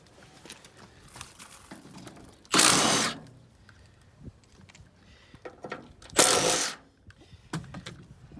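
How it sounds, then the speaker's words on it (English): A hand ratchet works loose the driver's side fender bolts on an International Scout, with two loud bursts of rapid clicking separated by quieter handling noises, close and without talk. "let's finish getting these driver's side fender bolts off"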